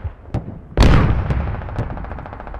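A sniper rifle in a video game fires one loud, close shot with a sharp crack and a long rolling echo, preceded by a few fainter distant pops and followed by more far-off shots in the game.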